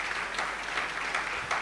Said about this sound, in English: Give yourself a clap offering.